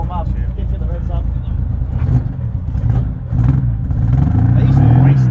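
A small 14-horsepower race car launches hard, its engine revving and rising in pitch, loud and close, with people talking over it.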